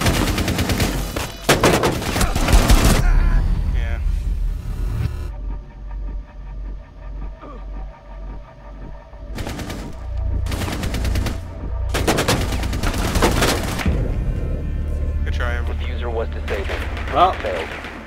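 Bursts of rapid gunfire from a Rainbow Six Siege match on the House map, loud broadband volleys early and again midway, separated by quieter stretches of game ambience with people talking over it.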